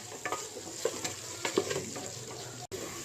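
Vegetable kurma with potato, turmeric and pepper powder is stirred in a pan, quiet sizzling underneath with soft spoon scrapes and taps recurring at an irregular pace.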